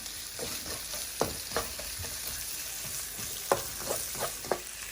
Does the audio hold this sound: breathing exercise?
no